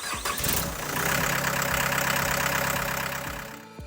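A Cardinal Mule 9069 shed mover's 69-horsepower diesel engine cranks over and catches, then settles into a loud, steady rumbling idle close by, with no talking.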